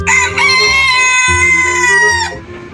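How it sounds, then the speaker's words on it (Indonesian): A toy rooster gives a loud, long electronic crow with a steady, bright tone, close and clear with no talking over it, then cuts off abruptly. "ini ada ayam jago"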